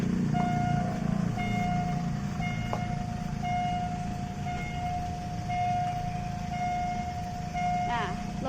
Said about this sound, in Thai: กำลังจะเข้ารางประธานแล้วนะคะ รถเล่งออกมาแล้วนะ